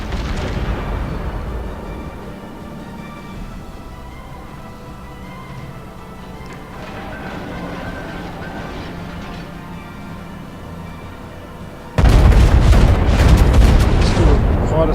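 A main-gun salvo from the battleship König in the game World of Warships: steady engine and ambient rumble, then a sudden loud, sustained booming blast near the end.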